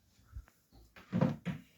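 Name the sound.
kitchen cupboard door opening and closing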